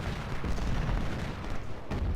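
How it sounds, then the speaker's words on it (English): Artillery cannons boom in a Civil War battle in the Ultimate General Civil War video game at Malvern Hill, with dense, rumbling, overlapping blasts and gunfire rolling continuously at loud volume. "Guns are firing on these guys, keep them pinned."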